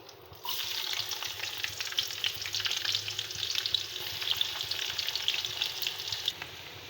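Onions fry for a fish curry, giving a steady, close, crackling sizzle that starts abruptly after a moment of quiet and holds evenly for several seconds before easing off, with no talking.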